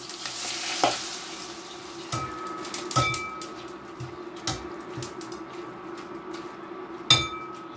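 Carrots poured into hot spitting oil in a frying pan for an avocado salad, giving a steady close sizzle with sharp crackling pops and a few clinks of a utensil against the pan, no talking.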